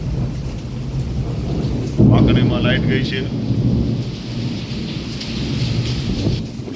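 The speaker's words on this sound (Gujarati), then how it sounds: "ચમકારા થઈ રહ્યા છે વરસાદ ચાલુ છે પવન ચાલુ છે" A thunderstorm over Wankaner brings a loud crack and rumble of thunder over steady pouring rain and gusting wind, while someone talks briefly over the downpour.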